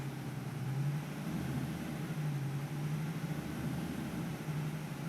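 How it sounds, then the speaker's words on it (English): Simulated B9TL Gemini double-decker bus in OMSI 2 pulling away on full power with kick-down, a steady low diesel drone with a rising engine tone held at moderate level throughout, no voices. "when you sort of set off on full power with kick down, it does have that different sound"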